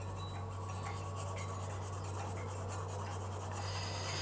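An HB pencil scratches across paper in a continuous, close, dry rasp that stays steady throughout, with a low electrical hum beneath it.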